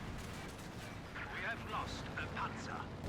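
Grenadier rifle fire in a Company of Heroes 2 match, crackling bursts of scattered gunshots and distant artillery-like thumps over a constant low battlefield rumble, with a voice talking over the action.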